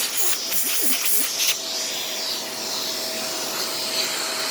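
A Shark Professional Swivel Pet upright vacuum cleaner runs on carpet mode with its brush roll engaged, giving a steady close-up whooshing hiss of suction with a few short scraping rubs at the start.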